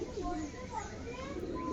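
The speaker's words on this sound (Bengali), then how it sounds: "কেমন পায়রা" A house pigeon coos in low, soft rolling notes close by, a short burst under a background hum.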